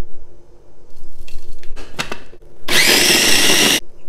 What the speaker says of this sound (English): I'm going to grind the green chili, dhania and garlic first with salt for the first marination